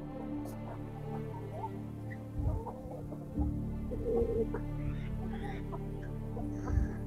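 A rooster and hens cluck softly nearby on a farm, a few low clucks and short calls scattered over a quiet background hum.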